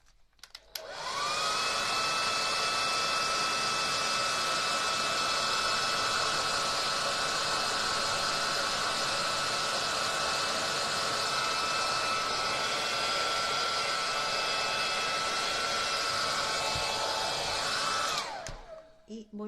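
A hair dryer switches on and blows steadily for about seventeen seconds while drying a fabric rag doll head, a loud whooshing roar with a whining tone, then powers down at the end.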